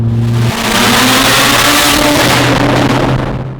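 A tuned Mitsubishi Evo accelerating hard, loud engine roar climbing steadily in pitch without a shift, close and dominant for the whole stretch, with no talking.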